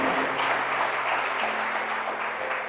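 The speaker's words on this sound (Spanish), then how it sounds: "denle un fuerte aplauso al Señor" Applause from a church congregation, a dense steady wash of many hands clapping throughout, fairly loud and continuous with no voices on top.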